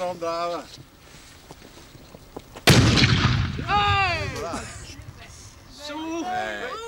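A carbide cannon fires a single sharp, loud bang mid-clip that rings off, with people chattering and exclaiming before and after it.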